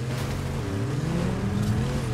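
An opponent's car engine in the video game Fortnite gives a steady, droning hum whose pitch rises and falls slightly as it keeps running.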